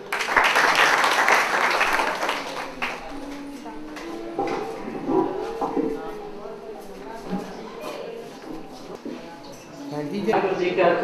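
An audience at a drug-awareness seminar in a public library applauds to welcome someone speaker, with dense clapping for the first few seconds before a voice begins speaking over a quieter room.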